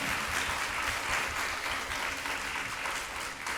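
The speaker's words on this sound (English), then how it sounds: "let's give a round of applause for our speakers and moderators." Sustained applause for speakers and moderators at a museum forum, an even roar of many people clapping that holds steady throughout.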